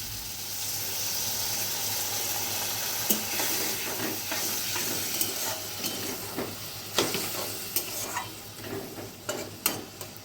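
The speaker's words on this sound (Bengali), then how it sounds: "এখন আমি ওপর থেকে অল্প একটু জল দিয়ে কিছুক্ষণের সময়ের জন্য ঢেকে রাখবো।" Brinjal and okra hiss in a hot pan after a little water goes in, a continuous sizzle joined by scattered spatula taps and scrapes that grow more frequent toward the end.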